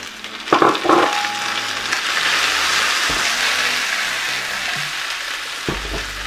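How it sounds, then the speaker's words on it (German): Onions sizzle and fry hard in a hot pan for a vegetable gnocchi bake, a steady close crackling hiss with a few clatters of stirring or utensil knocks mixed in. "Die Zwiebeln scharf anbraten, bis sie eine leicht bräunliche Farbe bekommen haben."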